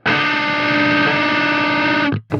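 A single sustained electric guitar chord through a Fortin Fuzz distortion pedal rings out loudly, then cuts off abruptly with a short buzzing tail.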